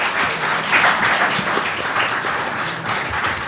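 A short burst of scattered hand clapping from a small audience at an academic quiz competition, crackly and uneven, with no voices.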